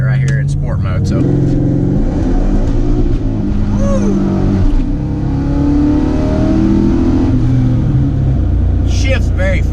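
A cammed 2009 Pontiac G8 with an LS V8 pulls at full throttle in sport mode on a road in Mexico, loud rising engine tones climbing through firm gear shifts, with a voice talking over parts of the run.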